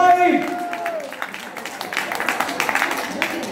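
Audience applause and clapping at a Purim costume party in a community center in Petah Tikva, greeting a hippopotamus costume. A steady patter of many hands follows a brief held tone, with voices mixed in.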